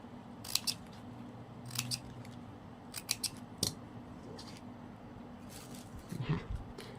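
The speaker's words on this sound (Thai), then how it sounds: "เสร็จแล้วเราก็ตัดปลายริบบิ้นค่ะ ตัดปลายริบบิ้นทิ้งค่ะ" Scissors snip off the loose ends of ribbon on a handmade coin-shower flower, a few quiet, close, crisp cuts spaced out over a faint background hum.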